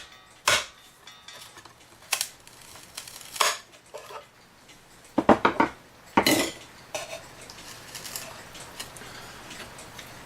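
A part is tapped and pried into the wooden case of a 1984 E. Schmeckenbecher 8-day cuckoo clock, producing sharp, close clacks and knocks, some in quick double hits, spaced irregularly over a quiet background.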